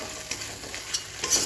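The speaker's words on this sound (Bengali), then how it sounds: "তার ভেতরে সর্ষে আর পোস্ত বাটাটা আমি দিয়ে হালকা একটু নেড়ে নেব" Fried onion stirred together with mustard and poppy seed paste in a pan for a Bengali pabda fish dish, making soft scraping strokes over a low sizzle, close and without speech.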